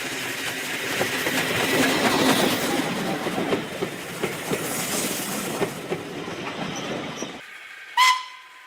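LMS coal tank steam locomotive 58926 rolls downgrade near Haworth, a steady rumble with rhythmic wheel clatter that cuts off abruptly, followed by a brief sharp whistle or squeal near the end.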